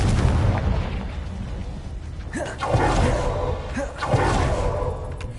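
Confringo blasting spell explosions in the video game Hogwarts Legacy, two or three booming bursts over a dense rumbling game soundscape, with a voice briefly audible.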